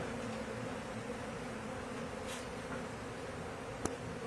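Bees buzz steadily inside a wall of a building where a hive is being removed, a faint, continuous swarming drone with one brief knock near the end.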